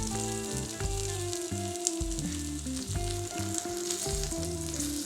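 A steak sears in a frying pan with a steady, crackling sizzle that runs throughout, partly under prominent background music with a clear melodic line.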